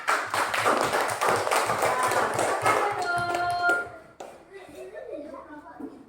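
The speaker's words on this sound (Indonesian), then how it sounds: "Tepuk tangan dulu anak" Schoolchildren in a classroom clapping their hands together, a rhythmic, busy patter of many small claps for about four seconds, with children's voices and a teacher speaking over and after it.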